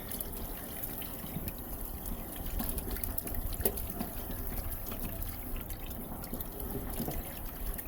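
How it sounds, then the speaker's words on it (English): A drain jetter forces water through a drain pipe, heard as a steady rushing, trickling flow with scattered splashes and drips, moderately faint and close. "We're now jetting through, and the water is now coming back clear"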